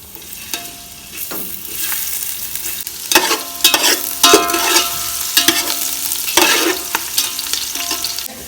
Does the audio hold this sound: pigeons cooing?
no